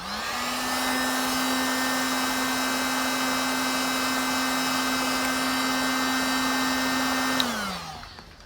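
Heat gun warming vinyl wrap graphics on a Triumph Daytona 660 motorcycle, a steady close whirring fan hum with a constant tone that runs for several seconds, then winds down.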